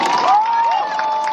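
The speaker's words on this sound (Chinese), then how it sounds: "我们也给自己一个掌声鼓励" A crowd applauding and cheering at an outdoor anti-nuclear rally in Taiwan, a steady wash of clapping and shouts, with a loud whistle-like tone holding through it.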